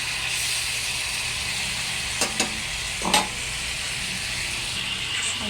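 Chicken adobo pieces sear in hot oil with a steady, close sizzle and hiss, and a few soft clicks and scrapes of stirring come through near the middle.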